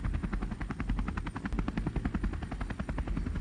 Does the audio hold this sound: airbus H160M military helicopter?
yes